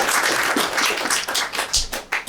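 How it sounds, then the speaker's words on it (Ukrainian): Audience at a stand-up comedy show in Lviv claps briefly, a close, uneven patter of hands with no voices over it. "Дайте оплески Наталії."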